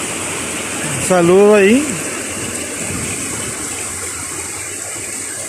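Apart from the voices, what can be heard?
waterfall and stream water flowing, Cañón del Diablo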